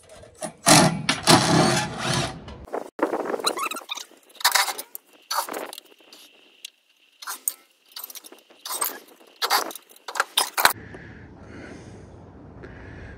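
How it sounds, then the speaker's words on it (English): A set screw is backed out of the hook on a high bay light fixture, giving bursts of close metallic rattling and scraping with pauses between them and no talk. "Next, I'm going to remove this set screw that holds the hook on."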